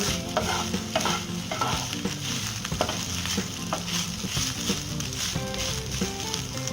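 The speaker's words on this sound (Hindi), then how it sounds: "इसे हल्के हाथों से मिलाना है ताकि चावल टूटे नहीं।" Veg fried rice is gently stirred in a frying pan, with soft repeated scraping and tossing strokes over a constant low sizzle, close up and without voices.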